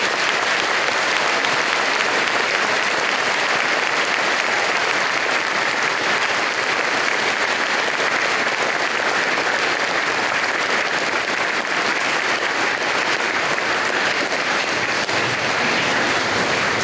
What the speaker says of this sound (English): let's just give them a round of applause for everything